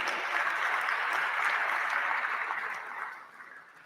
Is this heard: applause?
yes